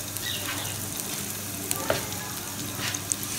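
Onions frying in a pan heated over a medium flame, giving a continuous soft sizzle and crackle with a few small pops, close and moderately quiet, no talking.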